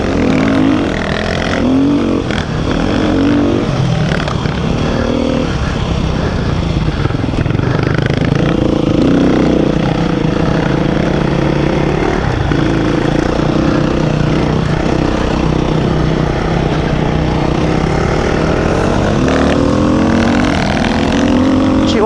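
Beta 390 RR dirt bike on a trail ride, engine revving loudly and continuously for over twenty seconds, pitch rising and falling with throttle and gear changes, close and dominant throughout.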